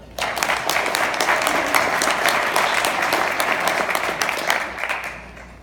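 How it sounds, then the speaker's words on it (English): A room full of people applauds at a gathering before a keynote speaker, steady crowded clapping that begins suddenly, holds at an even level and fades slightly at the end, with a few faint voices underneath. "I want to give him just a real quick round of applause for stepping up."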